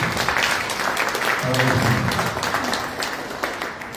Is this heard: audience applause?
yes